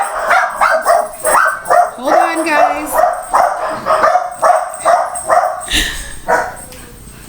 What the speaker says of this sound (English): The dogs got really excited.